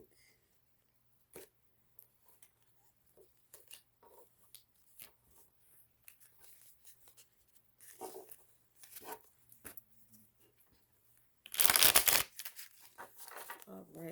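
A deck of cards being shuffled during a tarot-style reading, with sparse handling rustles building to a brief, louder burst of riffling near the end, close to the microphone and alone without talk.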